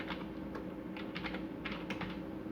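Quick clusters of keystrokes clatter on a computer keyboard, close and fairly faint over a soft background hum, with brief gaps between bursts.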